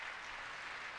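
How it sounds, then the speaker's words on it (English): Audience applause during a political speech, a brief, faint, dense patter of many hands clapping from a distance. "We just gotta clap for everything he says."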